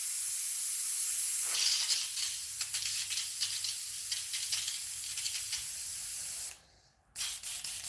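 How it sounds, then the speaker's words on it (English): An airbrush sprays paint onto a jointed musky crankbait, a continuous airy hiss with small pulses that runs steadily, then cuts out for a moment near the end before resuming faintly. "Especially when you only have one airbrush"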